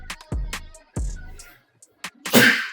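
A couple of short vocal sounds, then a sudden, forceful sneeze bursts out near the end, loud and breathy.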